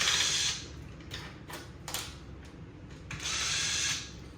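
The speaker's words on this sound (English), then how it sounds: "So we're going to do that by removing the 4 screws." A power driver backs screws out of an Arcade1up Gen 1 arcade cabinet's control deck, with two short whirring bursts at the start and end and sharp clicks and rattles between them.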